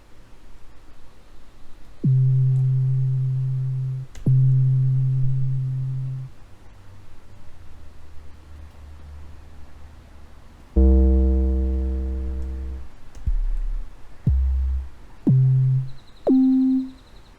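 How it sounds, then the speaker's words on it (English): Synth and sampler presets from the Nexus 3 ROM Expansion 2 play one after another, with deep booming 808 bass tones, sustained pure low notes and short plucked hits separated by brief gaps. "play each of the new sound presets from this ROM Expansion 2 sampler from Nexus 3."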